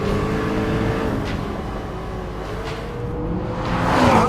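A McLaren 650S supercar is driven on the Willow Springs track, its engine note droning steadily and then swelling louder near the end as it accelerates, with a faint whoosh of motion.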